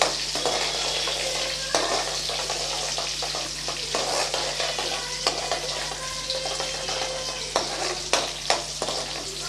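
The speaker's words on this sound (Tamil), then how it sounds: "ஒரு கைப்பிடி அளவு பூண்டு பூண்டு நல்லா செவக்க நல்லா வதக்கி விட்டுக்கலாம்" Garlic sautés in hot oil in a pan for tomato pickle, giving a steady close sizzle with occasional scraping stirs and light clinks over the whole stretch, with no talking.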